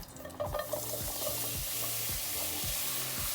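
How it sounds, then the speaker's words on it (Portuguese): Soy chunks frying and being stirred in hot olive oil in a pan, a steady close sizzle with repeated scraping strokes of the utensil roughly every second, no voices. "O azeite está esquentando e agora a gente vai colocar já a nossa soja"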